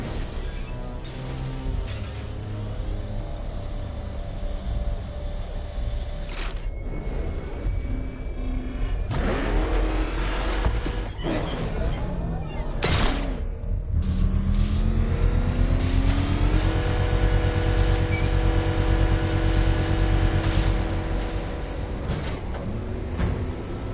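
The Batmobile engine in Batman: Arkham Knight roars continuously and loudly, surging and revving several times with sharp mechanical clanks and bursts layered over the steady drone.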